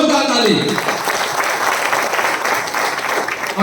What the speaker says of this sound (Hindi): जोरदार ताली